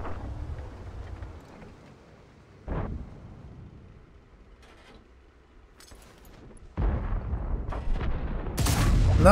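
Heavy cannon blasts from an ISU-152 self-propelled gun in World of Tanks on the Airfield map, a booming shot followed later by louder rumbling impacts and a final strong report, with quieter battle ambience between.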